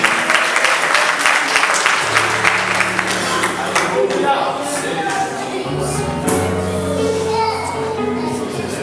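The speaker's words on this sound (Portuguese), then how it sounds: "glorificando este Deus com as palmas bem avivadas para Jesus" A church congregation claps in praise to Jesus, lively rhythmic clapping mixed with crowd noise, voices and sustained tones that may be music, fairly loud and continuous.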